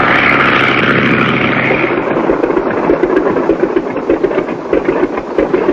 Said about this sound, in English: We'll circle in for a landing.